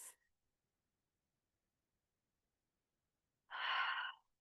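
A deep exhale during yoga practice, one soft breathy rush near the end after a long silence, with a brief faint breath at the very start; close and quiet, no talking.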